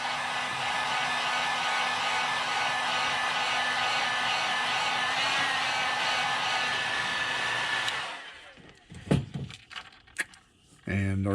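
A heat gun blows steadily for about eight seconds, setting light coats of paint on a shad crankbait lure, then clicks off, leaving a few soft handling knocks and taps.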